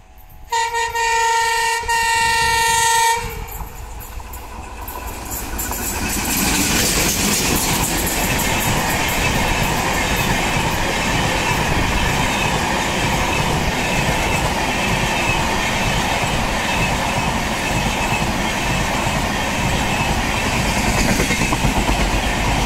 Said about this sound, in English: So here she comes, Pune WDM 3D leading the train, new LHB coaches of Hutatma Express.